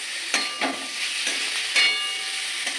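Water splashes into a pan of frying chilli baby corn, bringing a steady close sizzle and steamy hiss broken by a few sharp clatters of stirring.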